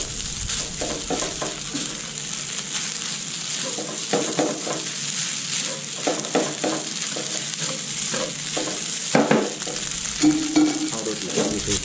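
Home-style garlic egg fried rice is stir-fried in a wok. A loud, continuous sizzle runs under repeated scraping and tossing strokes of the spatula, which get busier near the end. No one speaks.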